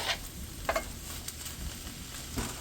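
Leftover pot roast sizzles as it warms in a pan, a soft steady hiss with a few brief scraping and spattering accents from stirring, close and quiet with no speech.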